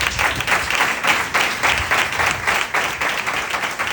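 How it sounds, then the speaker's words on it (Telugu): A church congregation claps as a thank-offering to God during a sermon, a steady, dense wash of many hands clapping together, loud and sustained with slight pulsing swells. "అది ఒక క్లాప్ ఆఫరింగ్ అంటే దేవుడికి ఇచ్చే కృతజ్ఞత కానుక, అర్పణ"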